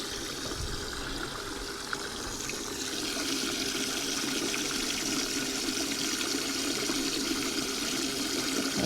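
Small bilge pump rated at 250 gallons per hour circulating water in a DIY live bait tank, a steady loud gushing and splashing flow that grows slightly fuller partway through and continues without pause.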